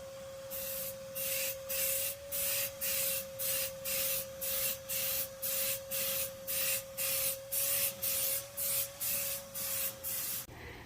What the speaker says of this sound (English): Overlap spray using a slow sweeping motion.